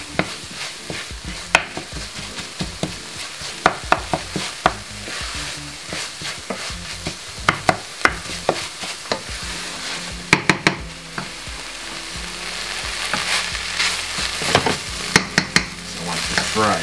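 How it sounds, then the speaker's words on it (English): Chilli con carne with a Jamaican twist sizzling steadily in a pan over medium heat, with frequent sharp scrapes and knocks of a spoon stirring it throughout. "So I want to fry"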